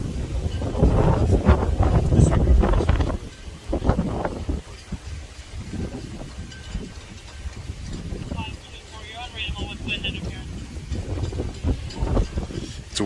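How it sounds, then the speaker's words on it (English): Heavy wind buffeting a microphone in gusty rumbles, with a person talking intermittently underneath throughout. "It's very windy out here."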